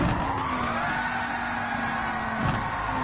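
A GT3/GT4 race car in Gran Turismo 7 brakes hard, its engine note sliding downward in a steady falling whine under broadband road noise, with a brief scuff of tire skid near the end.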